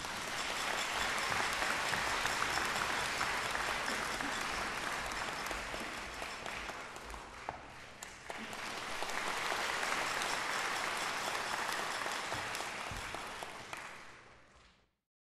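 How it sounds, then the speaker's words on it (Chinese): A concert-hall audience applauds steadily for about fourteen seconds after a conductor is introduced at a Chinese orchestral Lantern Festival programme, the clapping dense and full, dipping briefly midway before swelling again and then fading out. "再一次掌声，指挥郭哲成老师。"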